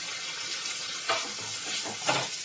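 Masala powders are stirred into a fish and radish curry in a pan: a close, even sizzle with two short scraping swells of the spoon, no voices.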